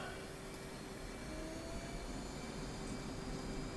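F/A-18 Hornet jet engine in the DCS flight game spooling up to high thrust on the catapult, a steady broad roar with a faint high whine, constant and close throughout without speech.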